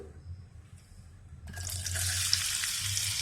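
Potatoes fry in ghee in a hot kadhai, a quiet start giving way to a loud, steady sizzling hiss that holds for the second half.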